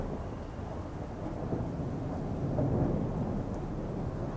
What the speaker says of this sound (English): Okay, there's thunder, there's a bit of rain.